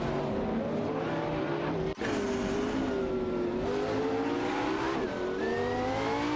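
Race cars in an AI-driven racing video game roar continuously with layered engine whines rising and falling as they overtake, a brief dropout near two seconds, then sustained high-pitched revving close up.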